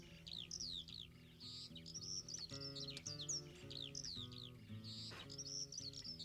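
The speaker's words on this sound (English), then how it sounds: "I like the birds, it's pretty." Birds chirp and tweet repeatedly in quick bright bursts, fairly close, over a steady low tonal hum in the background.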